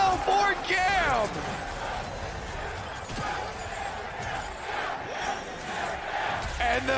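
A large esports arena crowd in New York roars and cheers during a League of Legends World Championship group stage match between GAM Esports and Top Esports, a broad continuous din with excited shouts, loud and sustained under caster talk.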